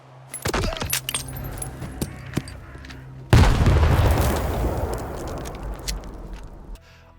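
In STALKER 2, light metallic clicks and clatter come first, then a grenade goes off with a sudden heavy blast whose loud rumbling roar rolls on for several seconds before cutting away.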